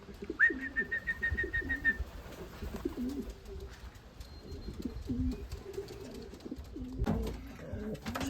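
Racing pigeons coo repeatedly in soft, low, rolling calls close by, with a brief chirping whistle near the start and faint rustling in the background.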